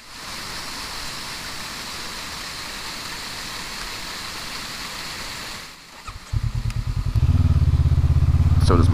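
A 2019 Honda CB500X motorcycle engine runs close by, a steady whooshing rumble that drops briefly, then rises into a louder, pulsing throttle drone.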